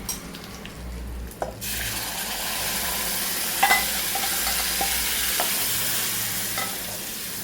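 Batter mixed with Kashmiri red chili hits a hot pan and breaks into a loud, steady sizzle after a brief quieter stir, frying continuously with a few small clinks of a utensil and no voices.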